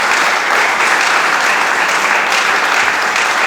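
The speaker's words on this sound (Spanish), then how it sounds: "Dele palmas al Señor." Church congregation applauding during a Spanish-language sermon, a dense, steady roar of many hands clapping that stays loud and continuous throughout.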